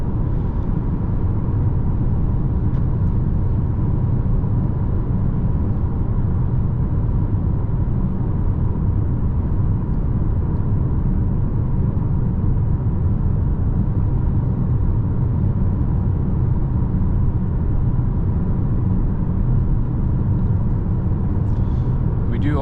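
Interior of a 2024 Toyota C-HR driving at night, a steady low road rumble and engine hum filling the cabin continuously, with faint tyre noise and a soft click near the end.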